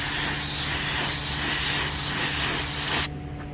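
Spray can dusting a first coat of primer onto spots of a Ford F-150 grille, a steady close broadband hiss lasting about three seconds before cutting off abruptly.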